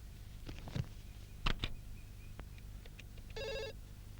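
A landline telephone rings with a short electronic trill near the end, preceded by scattered clicks and knocks in a quiet room.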